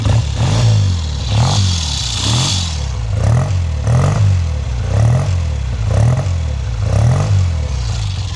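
A 1970 Triumph 650cc Tiger Special British twin motorcycle idles loudly up close with a steady, loping engine beat and periodic rhythmic pulses, running alone without talk.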